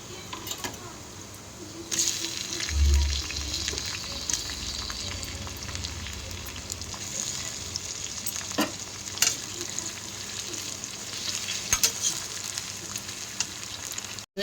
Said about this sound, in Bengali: টমেটোটা হালকা করে ভেজে নিয়েছি